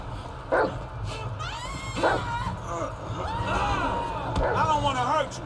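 Dog barking and yipping in the video game GTA 5, a few sharp barks spread across the clip amid game noise, with someone talking over it.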